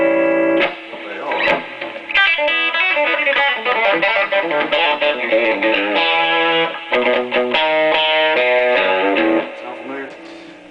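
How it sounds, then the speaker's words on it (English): A Telecaster electric guitar plays through an AboveGroundFX pedal with every control at noon and the tone backed off slightly, giving a steady run of bright, mildly driven chords and notes with a short spoken word at the start. "I've got the tone backed off just a little bit since I'm playing a Tele here."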